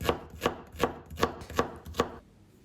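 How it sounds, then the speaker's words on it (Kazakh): A knife chops thinly through onion on a board for a lentil cream soup, six crisp, evenly spaced cuts close up, then a short quiet tail; no talking. "пиязымызды алып, видеода көрсетілгендей жұқалап, жақсылап турап шығамыз"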